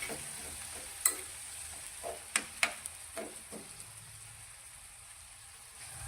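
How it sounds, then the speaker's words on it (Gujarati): Tomatoes frying in oil over a medium gas flame being stirred, a soft sizzle under a few scattered clinks and scrapes of the spoon against the pan, close and fairly quiet. "ગેસની ફ્લેમ મીડિયમ રાખી અને ટામેટાને આપણે સોફ્ટ થાય ત્યાં સુધી થવા દઈશું વચ્ચે વચ્ચે આપણે આ રીતે તેને હલાવતા રહીશું"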